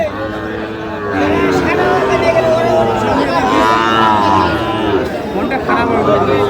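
Sahiwal bull calves low loudly and repeatedly at a busy cattle market in Chattogram, their moos rising over crowd chatter and nearby talk.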